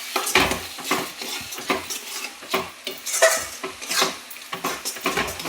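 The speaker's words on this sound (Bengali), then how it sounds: "এটা দিয়ে একটু মশলাটা এবার ভাজা ভাজা করবো।" Spices sizzle in a pan for mutton kasha while a metal spoon stirs and scrapes steadily, producing repeated close clinks and a soft frying hiss throughout.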